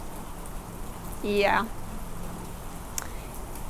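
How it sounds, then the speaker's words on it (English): Steady rain falling outdoors on a cold day, a constant soft hiss running under a man's speech with one brief louder tonal sound partway through. "Sorry, it's raining."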